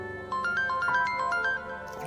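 A phone ringtone plays a short, bright electronic melody of quick repeated beeping notes that starts abruptly and lasts about a second and a half, with no talk.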